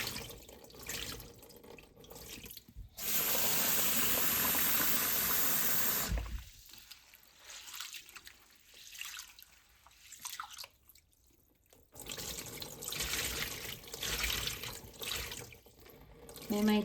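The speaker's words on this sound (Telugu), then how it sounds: "ఇక్కడ బియ్యం కడుగుతున్నాము" Rice being rinsed for Hyderabad-style chicken dum biryani under a running tap, with steady broadband water noise from about 3 to 6 seconds among quieter splashing and dripping, and a voice speaking at times.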